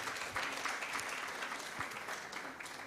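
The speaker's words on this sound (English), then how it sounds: "I thought we could give her a better round of applause" A symposium audience gives a steady round of applause, dense clapping heard from within the hall and holding evenly for a few seconds.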